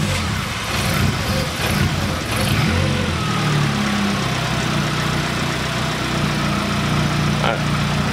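A Lincoln Mark III that has been stalling out is started and left idling, its steady, fairly loud engine drone close by while people talk over it.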